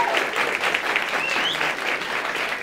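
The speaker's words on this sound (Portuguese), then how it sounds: "Palmas para ele, gente." A crowd applauds steadily for a couple of seconds, a dense wash of clapping hands filling the room.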